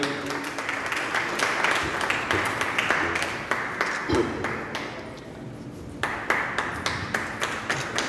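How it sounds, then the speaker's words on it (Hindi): Audience clapping at a Hindi Diwas 2024 felicitation ceremony and story-collection launch, a steady spread of claps running about eight seconds, thinning briefly near the middle before picking up again. "एक बार जोरदार तालियां।"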